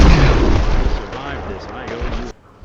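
A sticky grenade goes off in Fallout 4, a loud booming blast with rumbling debris that ends abruptly, while a voice talks over it.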